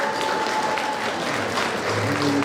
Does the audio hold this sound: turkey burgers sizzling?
no